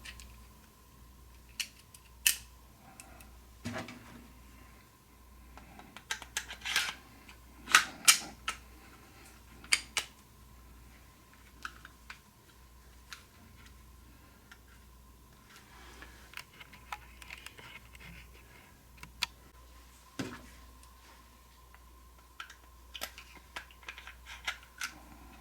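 Two 10mm compact handguns, a Springfield XDM Elite among them, being reassembled: scattered close metallic clicks, slides and snaps at irregular intervals over a faint steady hum, no talking.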